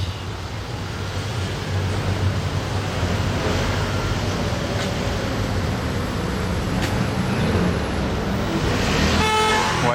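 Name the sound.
Ferrari car driving past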